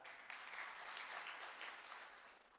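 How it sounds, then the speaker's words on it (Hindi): Audience at a Jeevan Vidhya introduction session in Visnagar breaking into loud applause, a dense burst of clapping that holds steady for a few seconds without speech. "जोरदार ताली।"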